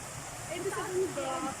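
A stream or small waterfall along a hiking trail makes a steady, hissing rush in the background while a person talks over it.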